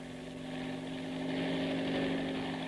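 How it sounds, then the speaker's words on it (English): A private helicopter on a heliport drones steadily with a low rotor hum and engine whine, loud and constant, slowly swelling slightly. "I ran across the heliport to Shockin's private helicopter."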